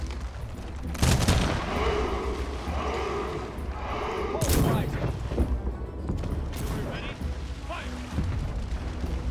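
Artillery booms and gunfire crackle through a siege battle in the Humankind strategy game, heavy blasts at intervals over continuous battle noise, with a voice talking over it.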